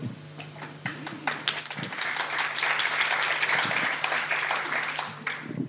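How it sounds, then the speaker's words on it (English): Sustained audience applause at a project gathering session, a dense steady wash of many hands clapping for several seconds, swelling in the middle and thinning at the end, with a faint tonal hum underneath. "It's great. I like applause."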